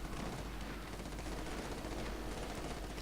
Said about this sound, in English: So they're firing on this position for a while, not doing anything.